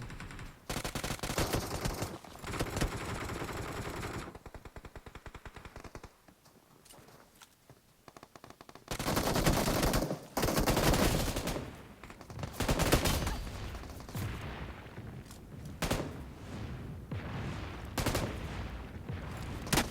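Gunfire in the mobile battle game PUBG Mobile, loud bursts of rapid automatic shots alternating with single cracks and short pauses, dense and close throughout.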